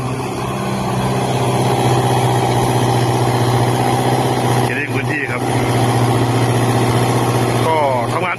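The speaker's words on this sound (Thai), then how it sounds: "เครื่องยนต์ดีเซล สี่สูบครับผม สี่สูบทโบครับผม เครื่องนิ่มจิ๊บครับ" The four-cylinder turbo diesel engine of an IHI mini excavator idles with a steady, even rumble throughout, close by, while someone speaks over it.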